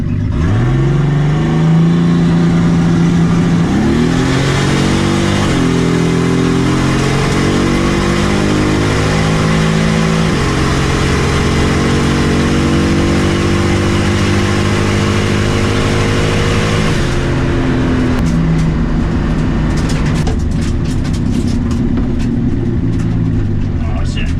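An old gold Nissan Z makes a quarter-mile drag run, engine roaring loud and close as it climbs through several gears with distinct shift breaks, then backs off into rumbling and wind noise near the end.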